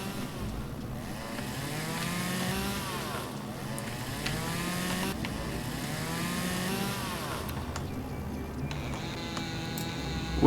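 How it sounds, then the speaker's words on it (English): A chainsaw cutting into a tree in a farming video game with an old tractor, a steady buzzing drone with repeated rising and falling pitch sweeps as the blade bites, moderately loud and alone. "the sawing of the tree"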